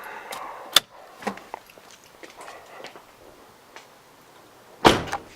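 Soft clicks and handling noises lead up to a single solid thud as a car door shuts nearby, with a smaller knock just after.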